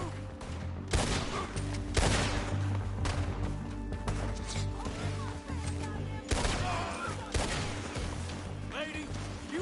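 Heavy gunfire crackles through a video game shootout in Red Dead Redemption 2, with loud, dense volleys of shots layered over constant battle noise and background score.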